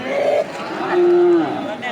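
Cattle at a village livestock market for calves and local cows low out twice, the second moo longer and louder, against a busy background murmur.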